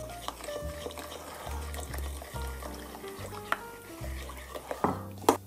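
A spoon scrapes and stirs around a pot of sauce as a water mixture is poured in, with soft liquid sloshing, faint clinks, and a low hum beneath, close and moderately quiet.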